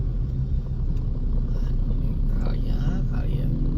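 A manual-clutch motorcycle creeps through a traffic jam amid a continuous, heavy road rumble from surrounding vehicles, with voices faintly present in the mix.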